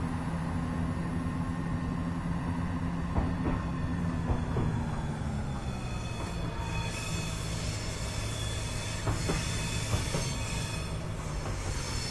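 A Class 171 diesel multiple unit pulls away from a South London station in Train Simulator 2016, a steady engine drone with rising wheel hum and occasional clicks over the rails, continuous and without talk.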